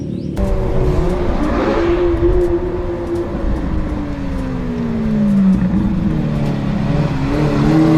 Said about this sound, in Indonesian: lihat di sini ada mobil Lamborghini